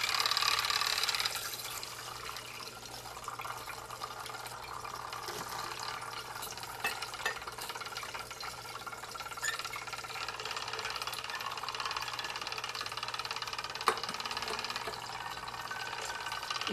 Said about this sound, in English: this container on top of a stir plate with a magnetic stir stick in it, and first we're going to turn that on to get it moving